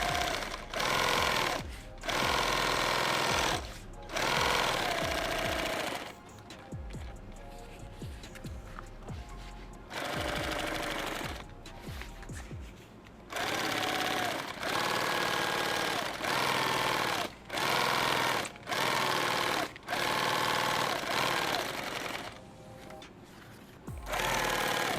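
Sewing machine stitching canteen cover pieces, running in repeated bursts of steady mechanical whirring separated by short pauses, loud and close, with no talking.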